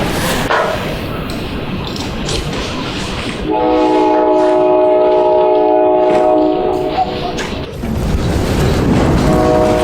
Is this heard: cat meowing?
no